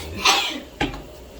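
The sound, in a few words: sneeze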